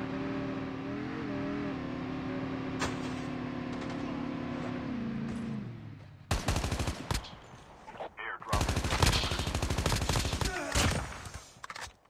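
Rapid gunshots erupt in Call of Duty Mobile battle royale after a steady engine-like drone, loud clustered bursts of automatic fire crackling in two separate volleys, with a faint voice beneath.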